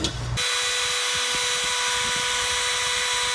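A Makita 1-1/4 HP compact plunge router, model RT0701CX7, cuts through wood with a steady, loud high-pitched whine and a harsh cutting buzz, starting abruptly after a brief lower motor sound and holding constant to the end.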